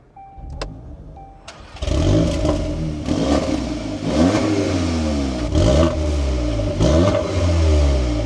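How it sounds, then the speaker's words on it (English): A 2026 Volkswagen Golf R starts with a brief crank, then its engine catches and settles into a steady idle broken by several sharp revving blips from the exhaust, loud and close with no talk. "let's start this up and take a listen to how it sounds"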